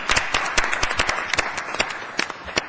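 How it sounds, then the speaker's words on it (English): A school board meeting audience gives a round of applause for high school state track qualifiers: many hands clapping steadily and fairly close, a dense patter lasting a few seconds. "How about a big round of applause for the ISHA state qualifiers for track?"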